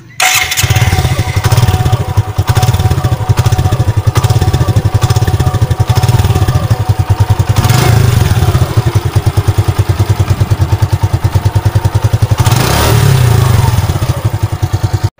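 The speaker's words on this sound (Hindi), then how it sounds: "तो आइए आप इसका एग्जॉस्ट का साउंड सुन लें।" Suzuki Gixxer SF motorcycle exhaust running steadily and loudly close by, a dense rumbling throb throughout with brief throttle blips around the middle and near the end, no talk.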